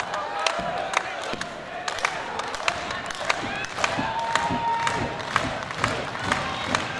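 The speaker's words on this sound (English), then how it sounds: "Now the crowd start to lift." Crowd at a Southern Pro Wrestling women's match cheers and claps under a commentator's talk, with sharp individual claps and shouts popping out of a steady crowd murmur.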